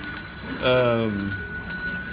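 Salvation Army hand bell rings in a few bright, sharp strikes with lingering ringing tones, close and loud, with a short stretch of vocal-like sound between the strikes.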